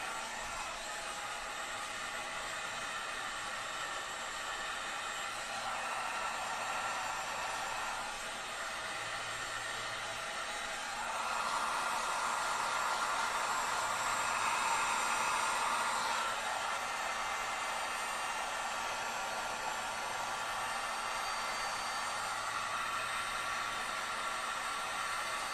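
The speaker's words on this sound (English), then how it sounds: "get your heat gun out and heat the shrink tubing so that it shrinks all the way down" A heat gun blows steadily to shrink heat shrink tubing down over a wire, giving a constant loud airy roar that holds for the whole stretch, swelling slightly partway through, with no talking.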